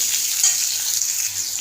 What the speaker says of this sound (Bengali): আলুটা যতক্ষণ ভাজা ভাজা হচ্ছে